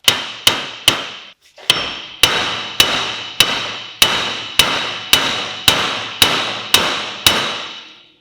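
Hammer tapping a ball joint into the strut of an Opel Zafira/Astra, about thirteen sharp metallic blows at a steady, regular pace, loud and close, with no talking.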